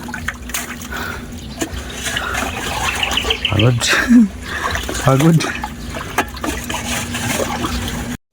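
Water trickles and gurgles as it flows into a freshly dug well at a house construction site, running steadily beneath people talking, with birds calling now and then in the background.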